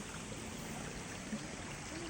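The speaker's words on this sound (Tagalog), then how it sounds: "makikita nyo agad dito yung ilog nila napaka-tiny" A tiny mountain river flows in a soft, steady wash of water, faint and continuous, with no talking over it.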